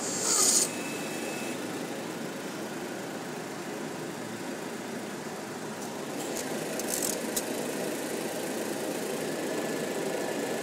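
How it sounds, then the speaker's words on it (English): A knife sharpening machine grinds its own sharpening stone with a steady mechanical hum throughout, fairly faint and even, with a brief higher tone at the start and a few light clicks partway through. "that is sharpening the stone, not the knife"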